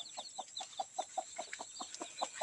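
A Palawan native hen with six chicks, clucking in a quick, steady series of soft, close calls mixed with high peeps from the chicks, with no talking over it.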